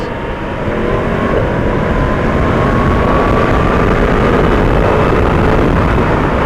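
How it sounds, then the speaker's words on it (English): A Yamaha MT10 motorcycle engine roars steadily and loudly while riding, a dense continuous drone with rushing wind noise, no talking over it. "I'm just loving the roar of this engine, just something else."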